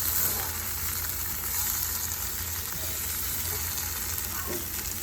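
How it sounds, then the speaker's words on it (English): Chopped tomatoes hit a pan of fried onions for dal makhni and sizzle hard, a dense, steady hiss that stays close and loud for several seconds with no talking. "So now that the onions are done, I'm going to add the tomatoes."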